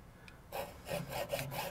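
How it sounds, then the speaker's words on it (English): A hacksaw rasps back and forth through a pipe in a few steady strokes, close up, starting after a brief quiet moment. "it's best to use a hacksaw, less vibrations than a power tool, and just cut them evenly"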